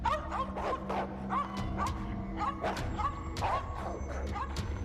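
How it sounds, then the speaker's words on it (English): Dogs bark rapidly and repeatedly, a sharp, busy chorus of yips and barks at close range with a low rumble underneath. "My dogs just started barking and growling."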